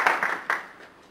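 Brief burst of audience clapping after a speech at a health action institute in Hyannis, a few quick claps that fade within about a second, fairly close and moderately loud.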